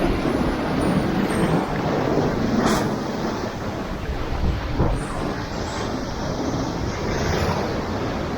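Continuous rushing ocean surf and wave wash at a cove in North Devon fills the scene, with heavy wind buffeting the microphone throughout.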